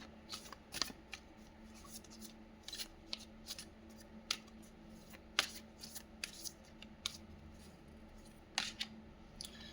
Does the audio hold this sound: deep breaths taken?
no